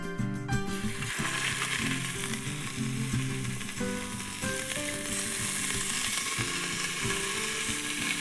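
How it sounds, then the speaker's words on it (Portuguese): Meat sizzles and crackles steadily in hot olive oil in a pressure cooker, a dense continuous frying hiss with faint scraping and no voices. "A primeira coisa é a gente dar uma selada nessa carne na própria panela"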